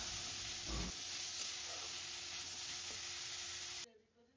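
Capsicum, carrot and tomato sauté in a pan for macaroni, giving a loud, continuous sizzle and hiss with faint stirring scrapes, which drops away abruptly near the end.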